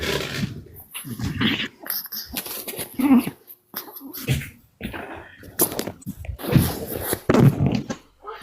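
A dog whimpers and growls in bursts, close and fairly loud, with short gaps of quiet between the strained vocal sounds.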